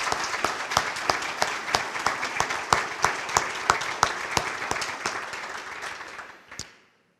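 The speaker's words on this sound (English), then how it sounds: "let's give Luann a great round of applause" An audience at a medical school academic building dedication claps in warm applause with distinct individual claps, holding steady for several seconds before thinning out and stopping.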